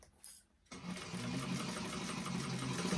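Sewing machine stitching a bag lining, a short start after a quiet pause, then a steady rapid mechanical whir close by.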